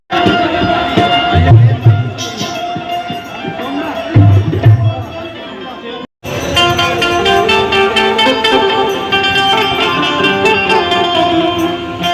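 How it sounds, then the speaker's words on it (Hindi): Applause from a crowd at a Satnam bhajan and satsang gathering swells into a dense, steady clatter of clapping that runs for several seconds, mixed with music, after a stretch of talk. "जोरदार ताली"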